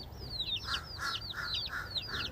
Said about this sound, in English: And I bought 8 chickens.